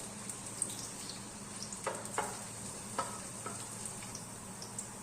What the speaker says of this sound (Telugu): ఫస్ట్ ప్యాన్ పొయ్యి మీద పెట్టుకొని తగినంత ఆయిల్ వేసుకొని ఫస్ట్ వెల్లుల్లిపాయలు వేసుకోవాలి